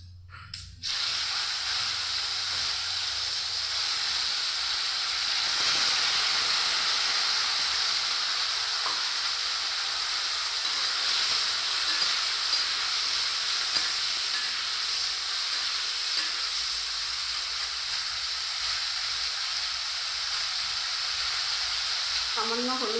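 Jujubes (kul) dropped into hot oil with five-spice, a loud steady hiss and sizzle that keeps going alone for about twenty seconds after a sharp start.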